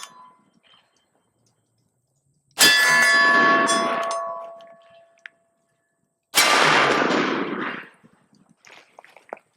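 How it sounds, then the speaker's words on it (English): Two loud, booming single-action shots from a Smith & Wesson 500 Magnum revolver, each a sharp blast followed by a long ringing decay, spaced a few seconds apart outdoors. "So, a few single action shots."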